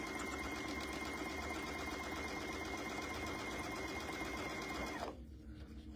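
A sewing machine doing free motion quilting, a close, rapid, steady needle chatter that runs unbroken and then stops abruptly near the end.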